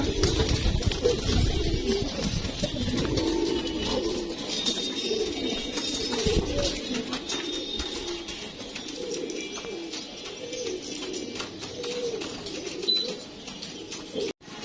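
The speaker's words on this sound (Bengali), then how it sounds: "পঁচিশ নাম্বার কবুতরটি চলে আসছে" Racing pigeons arriving home during a race coo repeatedly close by, their soft throaty calls overlapping against a faint background of outdoor noise and occasional chirps.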